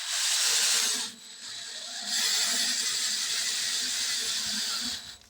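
Variable speed drill slowly turning a cheap thread tap, a loud continuous whirring hiss that dips briefly after the first second, then resumes steadily before cutting off near the end.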